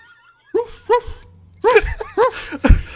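A person vocally imitates a hunter shooting with his dog, producing short yipping and barking-like bursts with breathy, sneeze-like pops, in a few quick clusters separated by silence.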